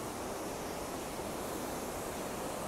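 A river flows below a metal footbridge, giving a steady, broad rushing wash of water that fills the scene evenly at moderate loudness without pause.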